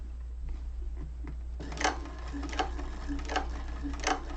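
A sewing machine top stitches a hobo bag with a steady low motor hum and a regular series of sharp mechanical clicks from the stitching.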